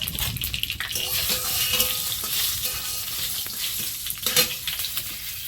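Whole cumin seeds and dried red chili tempering in hot oil, a close, crackling sizzle with spitting pops and a few scraping stirs throughout, no voices.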